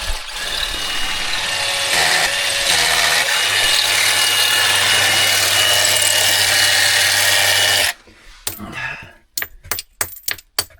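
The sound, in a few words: hammering a bolt into rock while caving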